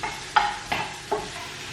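Food frying in olive oil in a frying pan at home, giving a soft steady sizzle with three light stirring scrapes spaced about a third of a second apart. No one speaks.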